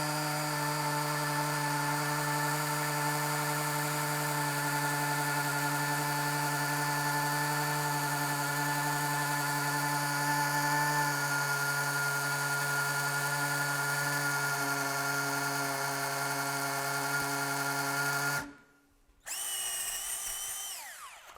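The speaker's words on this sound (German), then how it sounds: "zweiter Gang und jetzt gucken wir mal, ob wir hier schön bohren können." A cordless drill runs steadily in second gear for about eighteen seconds, a loud continuous whine with a strong motor hum, then stops abruptly before briefly spinning up again.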